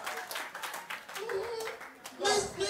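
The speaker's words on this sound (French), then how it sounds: "J'adore les applaudissements" A small audience at an anniversary celebration claps briefly and unevenly, with voices talking and exclaiming over the scattered, close clapping.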